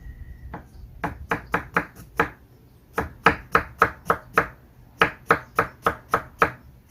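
A knife chops rapidly on a cutting board, julienning ingredients such as apple for perilla leaf kimchi: three bursts of quick, evenly spaced crisp strokes separated by short pauses, close and clear with no talk.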